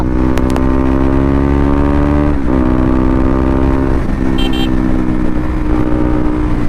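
Motorcycle engine screaming at high RPM in sixth gear on an open road at around 140 km/h, a loud, steady, sustained drone with harmonic whine throughout and a brief dip midway, no talk.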